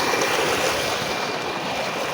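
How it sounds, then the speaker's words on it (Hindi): A borewell pump runs in a wheat field, pushing out a strong, steady rush of flowing water that fills the whole stretch with loud, unbroken broadband noise and no voices. "बोर चल रहा है"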